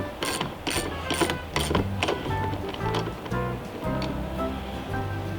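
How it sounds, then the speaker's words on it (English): A ratchet turns a 10mm deep well socket to snug the main battery ground on a Jeep Wrangler JL, giving a close, steady series of rapid metallic clicks in several short runs without talking. "we'll use a 10mm deep well socket on this"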